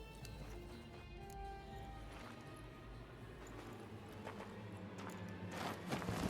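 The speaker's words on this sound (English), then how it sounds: "Horse." Horse hooves clip-clopping in The Witcher 3: Hearts of Stone, a faint, steady walking rhythm of hoofbeats under a quiet game ambience, building slightly louder toward the end.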